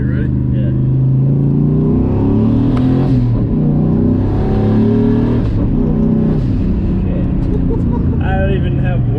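A 435-horsepower turbocharged new-edge Ford Mustang pulls hard through second, third and fourth gear, a loud continuous engine roar rising and dropping with each shift, heard from inside the car with voices over it.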